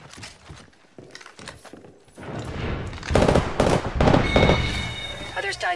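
Gunfire in the battle royale shooter Apex Legends, a run of sharp overlapping shots and bursts that grows louder and denser midway, with rapid fire clustering near the end amid game effects and a talking voice.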